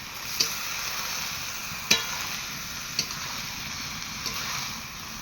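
Rice being stirred for fried rice in a pan, a steady sizzle with a few sharp scrapes and clicks of the utensil spaced a second or so apart, close and moderately loud with no talk.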